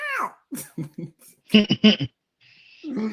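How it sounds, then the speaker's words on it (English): A cat sound effect with several short meows in an uneven sequence, a couple of louder clustered cries, then a drawn-out final meow, close and clear against silence. "I need a cat sound."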